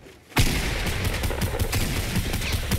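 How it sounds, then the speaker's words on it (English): Gunshots in the Fortnite battle game erupt after a brief quiet moment, followed by a dense, sustained barrage of overlapping shots and impacts, loud and busy throughout. "I get a few shots off and I build up."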